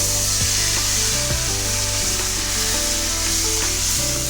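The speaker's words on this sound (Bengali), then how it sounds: "আগে তেলের মধ্যে পেঁয়াজ বাটাটা দিয়ে দেব।" Onion paste fries in hot oil for doi katla, with a loud steady sizzle and repeated scraping strokes of a spatula against the pan throughout.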